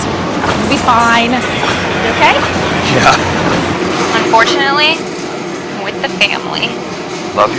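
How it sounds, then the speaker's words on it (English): A subway train rushes through a tunnel in the video game Crisis: New York Underwater, a steady rumble with metallic squeals that runs under several voices talking throughout. "Oh, great. I think that was our train."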